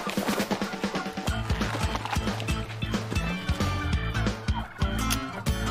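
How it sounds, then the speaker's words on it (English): Turkeys gobbling inside a truck, a dense, repeated gobbling chatter of many birds over a low engine rumble and thumping, loud and close, with no talk. "Where'd you get all these turkeys, son?"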